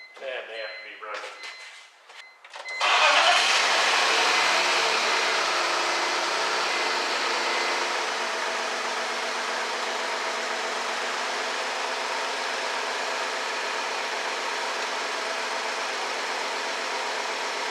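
A 2000 BMW 323 Ci engine turns over briefly, catches with a sudden loud roar and then settles into a steady, even idle that continues at a constant level.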